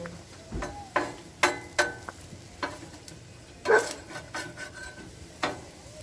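Cheese quesadillas cooking on a Blackstone griddle at camp, a soft sizzle under a series of sharp metal spatula scrapes and taps spaced irregularly across the stretch.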